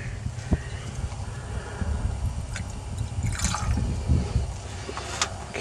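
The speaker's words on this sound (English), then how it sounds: "So I'm going to pour this into the carburetor." Gasoline trickles and splashes from a cup into the carburetor of a 1980 International S-1700 school bus engine, a faint liquid pour with light clinks and rustling nearby, no talking.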